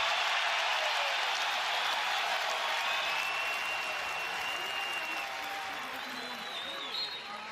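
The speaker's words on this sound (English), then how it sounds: "Carver Hawkeye excited, cheering on the Lugo out in front, 2-0" Arena crowd at Carver-Hawkeye Arena cheering during a Big Ten college wrestling match, a dense, sustained roar of voices and applause filling the space steadily for the whole stretch, with an announcer talking over it.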